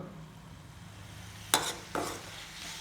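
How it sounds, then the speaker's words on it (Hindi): Ivy gourd (kundru) being stir-fried with masala in a pan, quiet steady frying under two sharp scraping strokes of a spatula against the pan. "जब तक कलर चेंज हो जाए कुंदरू के तब तक इला भून संगवारी मन।"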